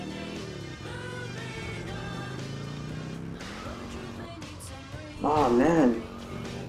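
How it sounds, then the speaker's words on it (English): A car drifts in GTA Vice City with engine drone throughout and a brief, loud, wavering tire squeal toward the end, while a player talks over the game sound. "One perfect drift, let's see."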